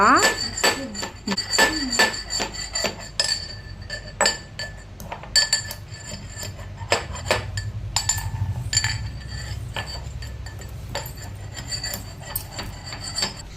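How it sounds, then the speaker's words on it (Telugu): Black peppercorns pounded in a kitchen, a run of sharp clinking, grinding strikes with a steady rhythm up close, under a low background murmur. "ఏం చేస్తావు మిరియాలు? దంచాలి."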